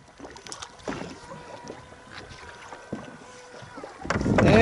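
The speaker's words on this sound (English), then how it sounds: "And we're in a little bit of wind," Wind buffets a fishing boat 35 miles offshore in a faint, gusty rush with scattered thumps and water sloshing, swelling louder toward the end.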